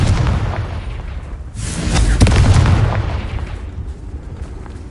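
A Confringo blasting spell in Hogwarts Legacy goes off in a loud, close burst with a deep boom, following a lower rumble and fading into a rumbling tail.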